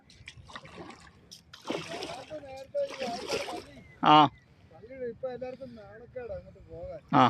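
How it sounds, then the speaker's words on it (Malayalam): Paddling a fiber boat through floodwater, with close splashes and trickles from the strokes, including two sharp loud splashes, while someone talks over them. "ഞാൻ തുഴയുകയാണ് വെള്ളം. എൻ്റെ ഫൈബർ ബോട്ടാണ്, ഒരു ഫൈബർ ബോട്ട്"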